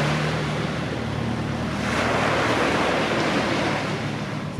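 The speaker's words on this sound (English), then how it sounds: "Quite a wind." Strong wind roars steadily across a harbour, with rough sea and waves surging beneath it, loud and continuous with no other sounds standing out.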